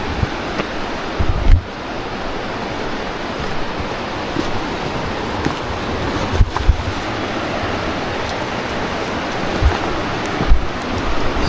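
A fast-flowing mountain river on Mount Wilis roars steadily and loudly throughout, with gusts of wind buffeting the microphone now and then.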